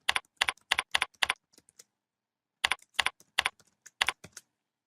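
Keystrokes on a computer keyboard entering an HTML5 doctype: two quick bursts of crisp, close clicks separated by a short silence, no voices.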